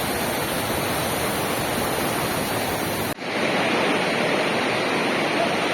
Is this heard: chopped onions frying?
no